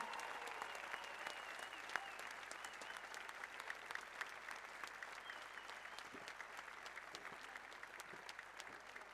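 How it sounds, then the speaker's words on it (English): Sustained applause from a large audience at a graduation ceremony, dense and steady clapping continuing throughout, heard from a slight distance at low level. "I would like to ask for a big applause to the graduating class"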